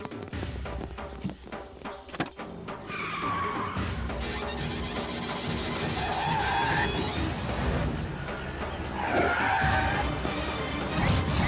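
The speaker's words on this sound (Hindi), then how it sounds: "गाड़ी निकालो, आज उस कालिया पांडे का भूत उतारना है।" A car in a Hindi-dubbed South Indian action film drives off and skids, with engine revving and repeated tire squeals rising and falling over a dense, loud dramatic soundtrack.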